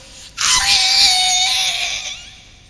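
A preacher's voice imitating the hysterical screaming of young fans greeting a pop singer: one loud, sudden, sustained shriek that wavers and slowly fades over about two seconds.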